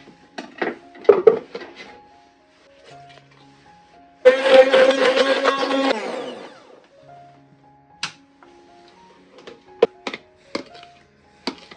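A kitchen knife slices radish and carrot into long strips for kimchi, making sporadic sharp taps against a cutting board, clustered at the start and end, with a louder, denser burst of noise in the middle.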